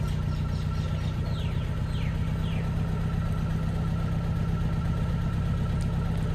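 A 1965 Fiat 1100 engine idles steadily with a low, even hum that holds throughout, and no one speaks.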